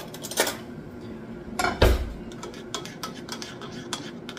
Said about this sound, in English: And you just sprinkle that on and give it a stir.